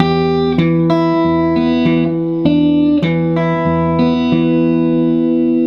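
A full measure of Travis-picked guitar in a rockabilly country-blues style in G: a lively stream of plucked notes over a thumbed alternating bass, ringing and sustained, played solo near the listener.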